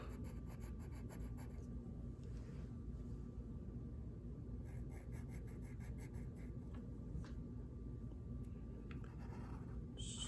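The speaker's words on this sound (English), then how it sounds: "we are going to draw her eyebrows" A pencil sketches eyebrows on paper for a chibi-style Pocahontas drawing, giving a faint, soft, steady scratching that continues throughout, close to the microphone, over a low background rumble.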